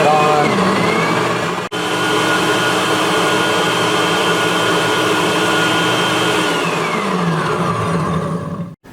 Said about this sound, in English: And we'll start blending this up. Okay, we want to start blending here.